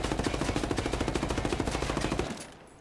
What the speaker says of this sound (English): I fired off a full magazine, and I was not holding my thumbstick at all